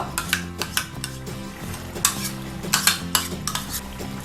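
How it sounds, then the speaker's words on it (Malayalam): Curd is stirred into an ash gourd aviyal with a spoon, which scrapes and clinks against the pot in quick, uneven strokes, sometimes in short clustered bursts. The sound is close and there is no talking. "തൈര് ചേർത്ത് വേഗം തന്നെ ഒന്ന് ഇളക്കുക"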